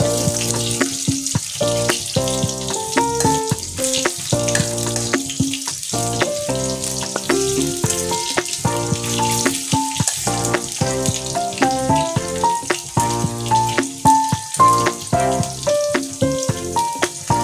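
Aar fish frying in hot oil until browned, a steady loud sizzle with crackling pops running throughout, no voices.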